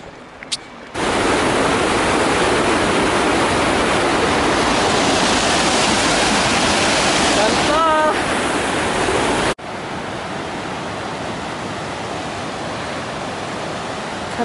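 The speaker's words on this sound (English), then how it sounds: "Beautiful the waterfalls are here." A mountain waterfall near Cervinia, in an Alpine valley below a retreating glacier, roars as a loud steady broadband rush that drops to a quieter constant flow partway through.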